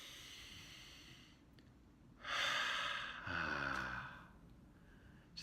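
A single deep breath, a faint breathy inhale followed by a long sighing exhale, close and alone in a quiet room with no talk.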